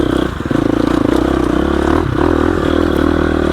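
A 2021 Gasgas EX 350F dirt bike labours uphill in low gear, its engine a loud, steady close-up thrum with faint clattering and scraping from the terrain.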